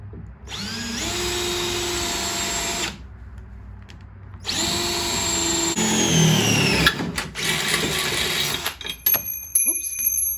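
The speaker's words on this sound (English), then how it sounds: "we're gonna drill a hole here" A power drill whines loudly in two long bursts, then grinds and stutters as it bites into the metal frame of a Polaris Ranger 570, ending with a few short clanks.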